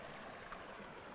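Water flowing at Herher waterfall near Jermuk, a steady broadband rush without pause, fairly faint and continuous across the short moment.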